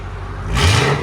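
A 2006 Ford Mustang GT with a 4.6L V8 and Valvetronic Designs mufflers, a short, loud throttle blip that swells abruptly from a low rumble into a roaring rev, close up.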